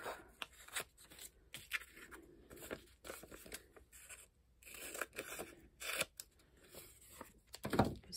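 Scissors snip through washi tape on a journal page in a quiet room, a run of short crisp cuts and rustles spread across the stretch, ending in a louder snip.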